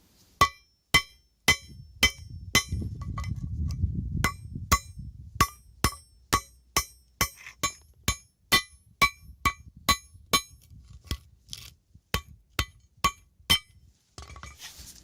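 Sharp metallic hammer blows ring out against an electric motor's winding in a steady rhythm, over twenty strikes, with a brief rumbling scrape partway through.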